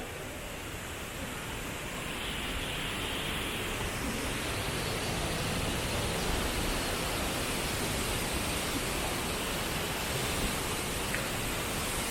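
Steady roar of a waterfall in Cebu, Philippines, a continuous broadband rush of falling water heard close and unbroken, with no voices.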